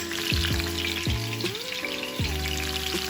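Peppers frying in a pan for ackee and saltfish, a dense crackling sizzle with stirring scrapes under a background of humming tones that glide up and down.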